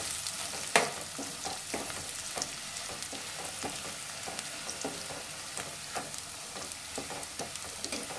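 Mint leaves fry in hot oil as a tempering for chicken curry, a continuous sizzle broken by scattered crackles and stirring clicks, close and fairly loud.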